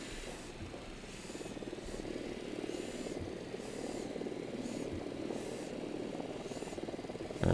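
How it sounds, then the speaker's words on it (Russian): A drone flies in the video game Ghost Recon Wildlands, a faint, steady buzzing engine hum with soft periodic tonal blips over it and no clear voices. "Запускаю дрона."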